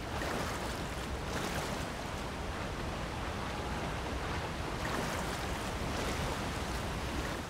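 Underwater swimming with Zora armor in The Legend of Zelda: Tears of the Kingdom: a continuous dense rush of water, even and loud throughout, with no voices.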